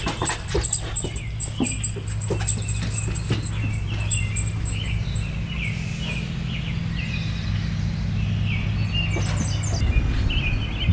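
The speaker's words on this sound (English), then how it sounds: "You can listen to the birds." Birds chirp and call faintly in the background over a steady low hum, while a dog's panting and snuffling sounds stay close by.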